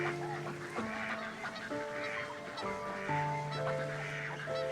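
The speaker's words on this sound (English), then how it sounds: "The colonies of thousands of wild ducks populate the pools of the park" Wild ducks call from the frozen pools of a park with colonies of thousands, honking and quacking in overlapping tonal calls from a flock, steady throughout with no speech.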